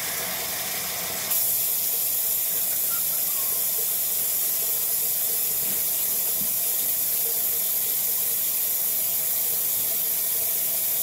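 Hot water runs from a tap into a sink as a steady, close hiss that starts after a short pause and keeps flowing without a break.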